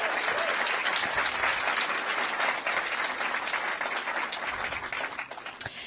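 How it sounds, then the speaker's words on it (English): An audience at a LinkedIn speaker series event in Dublin applauds steadily, a dense sustained wash of clapping that holds strong and then slowly thins toward the end. "So a big round of applause to all of those."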